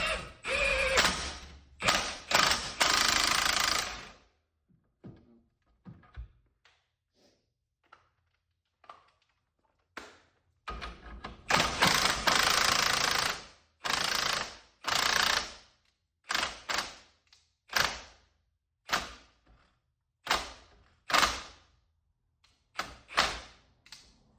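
A ratchet cranks down a bench-top coil-over spring compressor in repeated loud bursts of rapid clicking, separated by short pauses.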